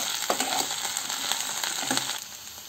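Okra sautéing in a pan for a spicy tamarind curry, a soft continuous sizzle with occasional scraping stir strokes and light clinks of the spatula against the pan.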